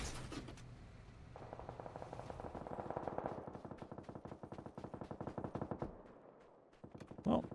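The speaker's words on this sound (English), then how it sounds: "That's a lot of shooting." Automatic gunfire in the video game PUBG rattles off in a long, rapid, sustained burst that runs for several seconds before breaking off.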